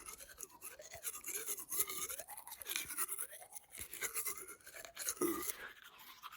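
A toothbrush scrubbing teeth at a backcountry campsite in the Adirondack High Peaks, steady rhythmic back-and-forth brushing strokes, close and fairly quiet, with no talking.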